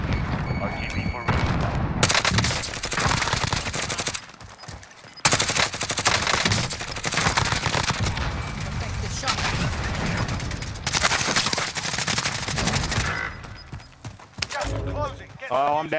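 Rapid bursts of automatic gunfire and explosions fill a Call of Duty Warzone match, loud and nearly continuous with brief pauses, while players talk over the action.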